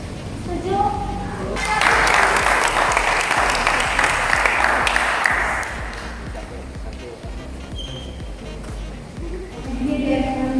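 Applause from a seminar audience at a financial management training session, a dense burst of clapping lasting about four seconds, with talk heard before and after.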